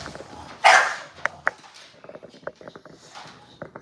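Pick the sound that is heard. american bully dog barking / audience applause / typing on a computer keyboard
american bully dog barking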